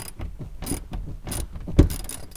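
Two wrenches working a seat bolt with a castellated nut on a rear seat, close metallic clicks and ratcheting bursts with scraping and one sharper knock.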